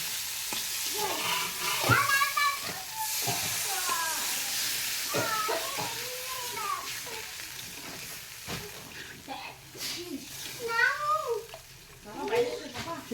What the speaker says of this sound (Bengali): মশলা দেখো ভাজা হয়ে গেছে, এবার কড়াইতে লাগিয়ে যাচ্ছে। এবার দিয়ে দেবো জল।